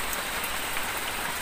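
Heavy rain pours steadily on a surface near a hut, a dense hiss with no talking.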